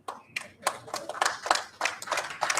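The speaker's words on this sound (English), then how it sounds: "That must get a clap, you know." Shareholders at a company annual general meeting clapping, a modest scattering of distinct hand claps from a smallish group, uneven and fairly close, with a faint voice underneath.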